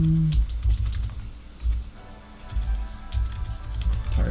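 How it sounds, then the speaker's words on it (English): Keys clatter on a computer keyboard in quick bursts of typing at a Linux terminal, separated by short pauses and heard close and clear with no speech. "Tired of typing it over and over again."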